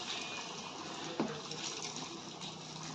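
Hot water pours into a pot of homemade chicken curry, a steady soft gushing stream with one brief splash partway through, close and quiet, with no talking.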